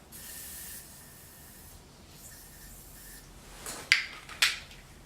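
Lubricant sprayed from an aerosol can onto a lumpy gasket surface, heard as a steady hiss near the start, then quieter stretches and two sharp, bright bursts near the end.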